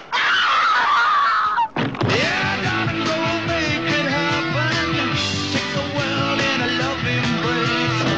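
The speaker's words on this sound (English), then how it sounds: "If you don't get out of here right now, I'm gonna scream." A woman screams in a 1984 film trailer, a loud, piercing cry held for under two seconds before it cuts off into loud, busy music.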